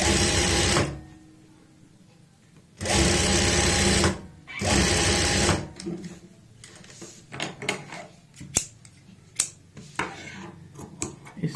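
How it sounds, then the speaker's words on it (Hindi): A sewing machine stitches a seam along a folded edge of an angrakha kurti front, with three long, loud bursts of running and short pauses between, then scattered clicks and handling of fabric and parts. "एक पैर का मार्जिन लेंगे और यहाँ पे सिलाई लगाएंगे"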